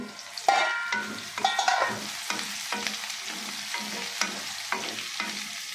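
Eggplant slices fry and get stirred in a pan, with steady sizzling broken by regular scraping strokes roughly every half second, close and fairly loud with no talking.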